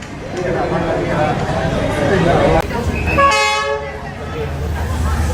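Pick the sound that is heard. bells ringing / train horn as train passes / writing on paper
train horn as train passes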